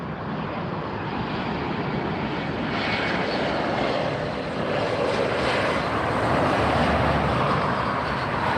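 An Alaska Horizon airliner arriving at LAX produces a continuous broadband engine roar at moderate level, swelling gradually toward the end, with no talk.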